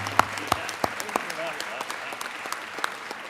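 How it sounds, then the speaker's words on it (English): Scattered claps from an audience at a Georgia state legislative session honoring the Georgia National Guard. The claps are sparse and fairly faint, a handful of separate sharp hits spread over a few seconds rather than a full ovation. "It's okay to clap. Yeah, it's a big deal."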